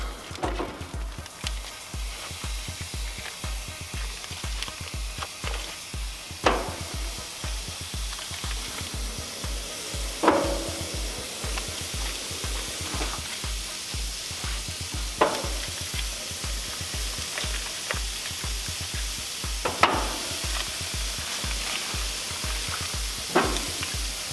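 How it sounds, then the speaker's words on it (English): Bradshaw Ranch frozen burger patties sizzle on an outdoor grill, a continuous hiss with sharp crackles and scrapes every few seconds, steady and close with no talking. "Let's get out on the grill, get them cooked. Bradshaw burgers going on."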